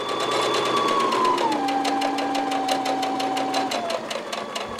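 Sewing machine stitching one leg of a fabric dart, a steady rapid needle chatter with a sustained motor whine that drops in pitch partway through, running continuously and close without talk.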